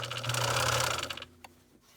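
A sewing machine stitches fabric for a Christmas stocking in a fast, close mechanical whir lasting about a second, then stops with a small click.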